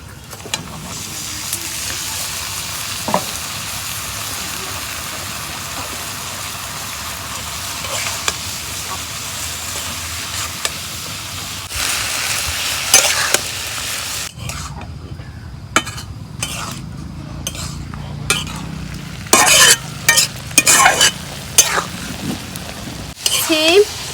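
Sliced beans and new potatoes fry in oil over a clay stove, a soft continuous sizzle under occasional spoon scrapes and clatters against the pot, with speech nearby.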